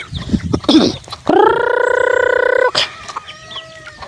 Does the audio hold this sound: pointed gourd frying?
no